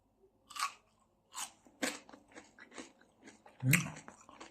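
Close, crisp crunching bites on crunchy noodles, a handful of separate chews with short pauses between them, fairly quiet with no talking.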